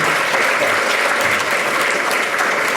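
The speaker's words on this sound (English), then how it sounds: "Save your applause." Loud, dense audience applause at a physician of the year award event, a continuous wash of many hands clapping at once, unbroken from start to finish.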